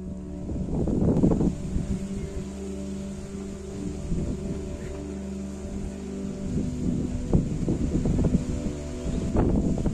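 Strong gusty wind on Mount Andong, reached via the Sawit trail, buffeting the microphone with rough low rumbling that swells in bursts around the start, middle and end over a steady roar.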